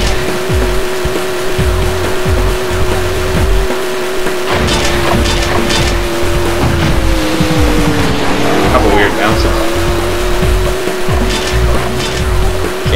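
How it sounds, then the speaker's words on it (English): A video game race car engine from Hot Wheels Velocity X: a steady, droning tone holds under noisy mechanical clatter, rising slightly in pitch with occasional screeching bursts, loud and continuous throughout. "By far the worst engine sound effect of all the cars."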